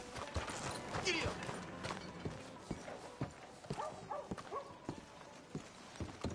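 Horse hooves clip-clop in a steady walking rhythm inside a PS4 video game, moderately close, with background music and a voice talking over the hoofbeats.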